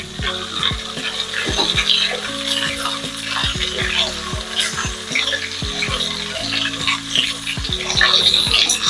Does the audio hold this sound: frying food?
yes